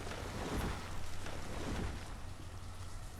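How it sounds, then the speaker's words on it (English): Steady rain pouring down in a colony-building video game, a dense broadband hiss with a faint low rumble, continuous and even for the whole stretch. "And of course the rain pours in."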